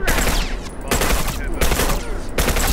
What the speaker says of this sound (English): I'm over here shooting this man in his head